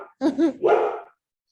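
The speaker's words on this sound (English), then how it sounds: "Sorry about my dog." A dog barks three times in quick succession at close range, loud and sharp, with no talk over it, during an online meeting.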